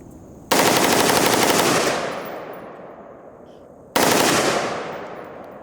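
Two long, rapid bursts of automatic-sounding fire from a rifle with a forced reset trigger at an indoor gun range, very loud and close, each ringing out and decaying before the next burst begins.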